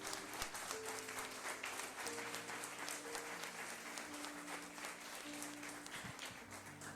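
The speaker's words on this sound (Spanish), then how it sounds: "Dale ese aplauso al Señor" A church congregation applauds during a service, a continuous dense clapping that fills the room at an even level, with a faint tonal hum underneath.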